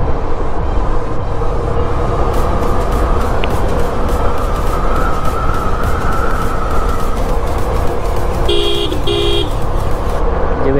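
Two short car horn honks sound close by over the steady hum of a moving vehicle's engine and road noise.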